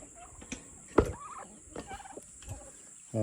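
Several short turkey gobbles rise out of a noisy outdoor background, with scattered bursts spread across a few seconds.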